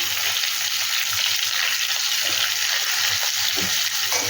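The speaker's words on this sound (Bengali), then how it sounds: "হলুদ গুঁড়ো দিয়ে আলুগুলোকে ভালো করে ভাজবো।" Potatoes frying in oil with salt and turmeric, a steady moderate sizzle with light stirring and scraping, continuous and fairly close, no talk.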